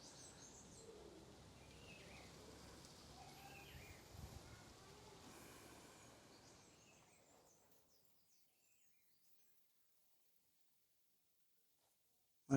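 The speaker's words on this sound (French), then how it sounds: "Si vous entendez les oiseaux, là, c'est incroyable." Birds chirping and calling outdoors during a yoga session, faint scattered tweets over a low ambient hum that gradually fade into near silence.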